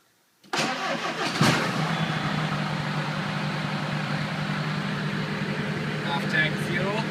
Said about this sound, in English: Alright, let's crank it up.